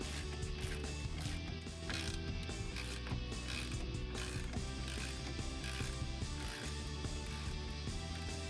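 A ratchet removing the lower ball joint nut on a Dodge Avenger during wheel bearing work, clicking in a fast continuous rhythm up close for several seconds.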